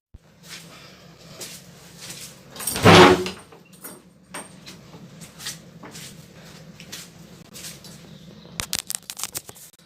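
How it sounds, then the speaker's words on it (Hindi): An outside house door is opened during a power cut, a loud burst of creaking and rattling near the start, then quiet room noise with scattered light clicks and knocks. "थोड़ा सा बाहर का दरवाज़ा खोल के आता हूँ"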